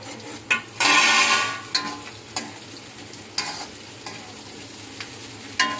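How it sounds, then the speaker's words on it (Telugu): Mushrooms frying in hot oil in a pan, with a steady close sizzle, a loud burst of crackling near the start and sharp scrapes and clinks from stirring. "ఆయిల్ వేడెక్కిన తర్వాత ఈ మష్రూమ్ను 2 నిమిషాలు ఆయిల్లో ఫ్రై చేసుకోవాలి"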